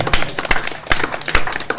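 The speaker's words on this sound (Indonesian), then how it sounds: "Tepuk tangan semua." Audience clapping at a relaxed religious talk by a comedian-preacher, a dense burst of many hands with sharp uneven slaps, fairly loud and close, lasting under two seconds with no talk over it.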